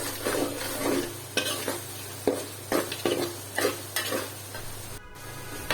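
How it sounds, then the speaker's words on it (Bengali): Ground turmeric, chili, cumin and coriander fry with onions and chilies in a pan, a soft steady sizzle broken by repeated scraping spoon strokes at an irregular rhythm. "তো এখন আমি এগুলাকেও পেঁয়াজ মরিচের সাথে ভালো মতো ভাজবো।"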